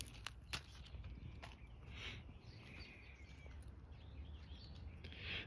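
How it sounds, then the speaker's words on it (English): Birds chirp faintly in the background of an outdoor vegetable garden with pak choy, with scattered short calls over low rustling ambience. "the birds who you can hear in the background. They really sing for us"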